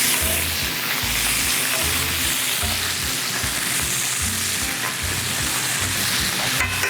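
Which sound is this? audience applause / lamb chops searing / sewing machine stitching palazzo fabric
lamb chops searing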